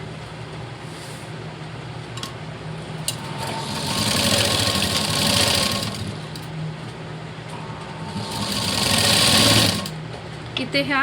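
An electric sewing machine stitches a cross strip on a blouse, running in two sustained whirring bursts with quieter gaps, close up, while someone talks over it.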